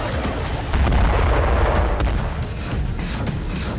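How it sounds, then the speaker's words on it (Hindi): Heavy artillery fire in wartime Zaporizhzhia, heard as a dense, continuous roar of booms and rumbling blasts that stays loud throughout, with no clear gaps between the impacts. "यूक्रेन के सैनिक छिपने के लिए आर्टिलरी से हैवी फायरिंग की मदद ले रहे हैं"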